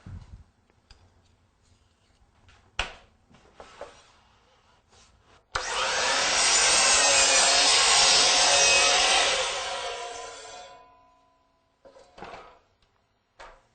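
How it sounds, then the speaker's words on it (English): DeWalt miter saw cutting crown molding: a few faint clicks and knocks, then a loud, close whine of the blade through the wood for several seconds before spinning down, with more light knocks after. "there's a couple other features that make it great for cutting crown mold"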